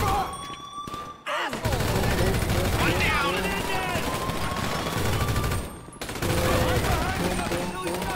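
Rapid bursts of automatic gunfire from a GTA 5 Online shootout, loud and sustained across most of the stretch with a brief lull, mixed with game effects while a player talks over it.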